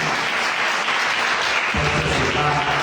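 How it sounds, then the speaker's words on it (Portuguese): A church congregation claps during a worship service, dense continuous applause throughout, with a low rumbling swell joining partway through, loud and close. "Você pode aplaudir ao Senhor?"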